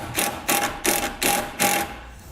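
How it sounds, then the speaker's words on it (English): A self-tapping screw is driven into the sheet-metal body of a 2018 Jeep in five even ratcheting bursts, each a short, close, buzzing click run separated by brief pauses. "we can take the included self-tapping screw and secure it directly to the body"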